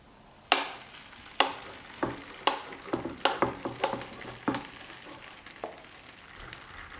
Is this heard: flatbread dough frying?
yes